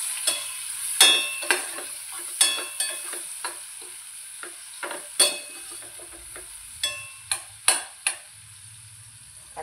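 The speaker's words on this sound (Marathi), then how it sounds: "कांदा असा परतून घेते।" Chopped onion sautéing in a pan for a cabbage curry seasoned only with green chilli and salt, a soft hiss under a series of sharp scraping stir strokes, several louder clacks spaced irregularly, close and without speech.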